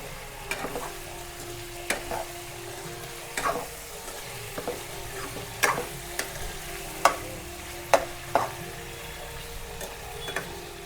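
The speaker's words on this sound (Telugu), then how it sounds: "నేను ఆయిల్లోకి వస్తే ఫ్రై చేసుకుంటున్నా." Bombay fish frying in oil, a quiet continuous sizzle under a scattering of sharp ticks and pops from the hot oil, heard up close with no voices.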